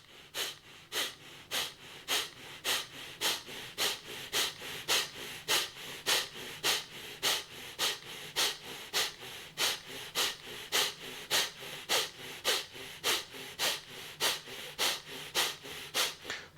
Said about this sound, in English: Stay with the breath.